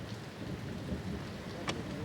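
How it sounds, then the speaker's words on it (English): Torrential rain pouring down during a midday downpour, a dense steady roar of water with a brief sharp splash or crack near the end and no voices. "By midday, the morning's drizzle has turned into torrential rain."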